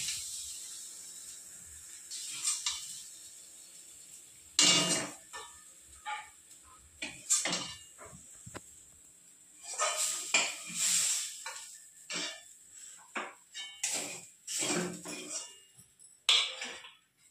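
Pumpkin leaf bharta being scooped onto a plate, quiet intermittent scrapes, soft taps and brief hissy swishes spaced out over a near-silent background.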